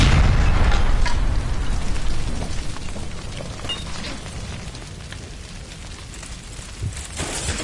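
A gas line blowing up in the video game L.A. Noire sets off a loud, deep boom. A long rumbling roar of fire and debris follows and slowly fades, with a few small pops near the end.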